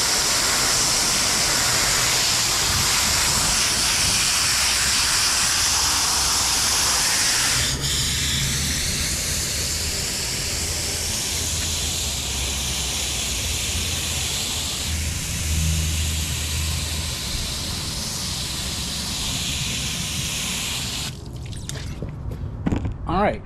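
Water sprays and rinses over OEM junkyard car floor mats dyed navy blue with RIT dye, a loud steady hiss that shifts in pitch as the spray moves, fading into drips and small knocks at the end.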